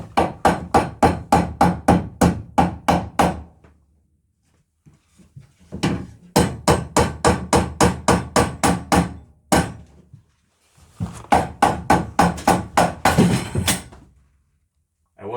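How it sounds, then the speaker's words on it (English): A hammer taps a coat rack into place on a wall in three long bursts of quick, even blows, each run of a dozen or so sharp knocks separated by short pauses, close and loud. "I may have to tap it down with a hammer"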